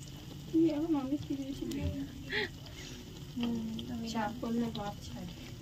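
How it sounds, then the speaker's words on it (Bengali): Malpua batter sizzles and fries in a pan in a home kitchen, a steady soft crackle under a voice, which talks over most of it. "এবার হচ্ছে মালপোয়া বসিয়েছি।"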